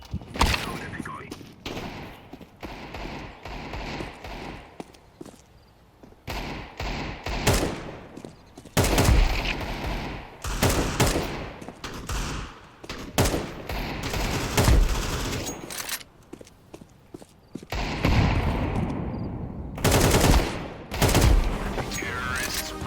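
Decoy grenade in the video game Counter-Strike 2 imitating gunfire, giving irregular bursts of loud shots and rapid volleys spread across a long stretch with brief gaps between them.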